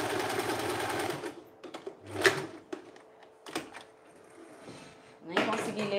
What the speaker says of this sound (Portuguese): Passa aqui um pontinho de zigue-zague aqui no final